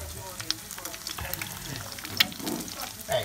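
Eggs fry in extra virgin olive oil with a steady, close crackling sizzle that runs throughout, dotted with small pops.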